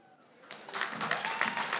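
A comedy club crowd in Douala breaks into applause, rising from quiet into steady dense clapping that holds to the end, with faint voices mixed in.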